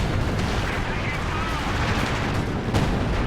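Heavy mortar-like artillery fire in a video game: dense, loud booming and crackling blasts that continue steadily, with a sharper hit near the end.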